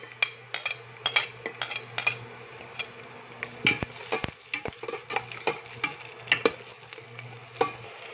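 White onion and onion leek sauté in hot oil in a pan, with a soft steady sizzle under frequent clinks and scrapes of a utensil stirring against the pan.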